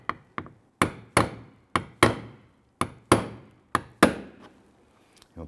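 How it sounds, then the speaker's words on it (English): Sharp hammer taps drive a small-diameter punch through the centers of plastic trim buttons on a 2011-2021 Jeep Grand Cherokee, about a dozen close, loud knocks in uneven pairs and singles with short ringing decays. "Now I'm going to use a small diameter punch for the center here"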